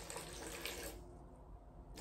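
Tap water runs steadily into a container to be mixed with plaster of paris for casting, a broad continuous splashing hiss that dulls and narrows about halfway through as the vessel fills, with no voices over it.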